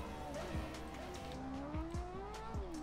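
A Honda CBR1000RR sport motorcycle in the GTA game accelerates hard, its engine note climbing steadily through gear changes with sharp transient thumps, loud and close with no talk.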